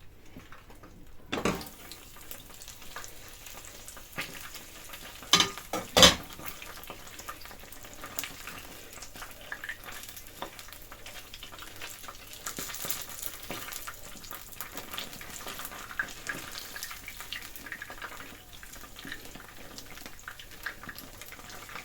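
Soft, steady sizzling of pancakes frying in a covered pan over minimal heat, with a few sharp clicks and knocks of utensils early on.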